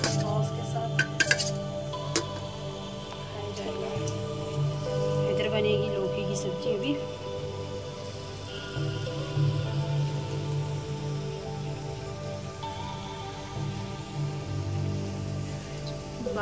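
Steady rain patters on a surface near a home kitchen where pakoras are frying, with occasional clinks of dishes and utensils. A voice talks over the continuous rain.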